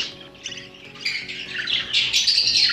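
African lovebirds give repeated shrill squawks and chirps close by, overlapping and growing busier toward the end, with no talking.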